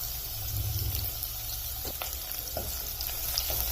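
Finely chopped ginger, green chillies and curry leaves are stirred in a pan for a sabudana breakfast dish, giving a steady close sizzle with a few brief scraping knocks of the spoon, no talking.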